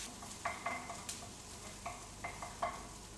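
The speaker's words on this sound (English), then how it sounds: "So over to here, we're just going to let these onions cook." Onions cooking in a pan to caramelise for beef gyudon, a soft steady sizzle with light scraping stirs and occasional clinks, fairly quiet and with no voices.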